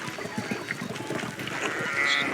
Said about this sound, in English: Sheep kerfuffle.